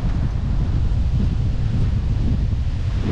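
Strong southwest monsoon wind by a rough, muddy sea buffets the microphone in a loud, continuous roar, with surf noise blended underneath and no voices.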